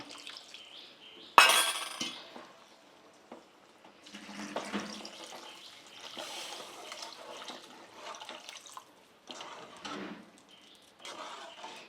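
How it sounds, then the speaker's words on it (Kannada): Water is poured into a pan for upsaaru, a Kannada lentil-broth dish, in uneven splashing bursts, with a sharp clatter of metal near the start, close and fairly quiet. "ನೋಡಿ ನಾನು ನೀರು ಎಷ್ಟು ಬೇಕಷ್ಟು ಹಾಕೋತೀನಿ"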